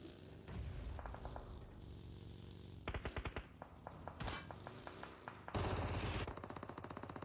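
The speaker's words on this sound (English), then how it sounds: "Out comes that MG3 yet again." An MG3 machine gun in PUBG Mobile tears off several loud, rapid bursts with short gaps between them, mixed with other gunfire and occasional booms, and there is hardly any talk.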